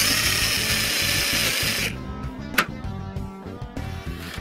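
A power drill whines loudly as it bores into metal, then the pitch drops and a sharp scrape rings out as the bit breaks through, followed by grinding.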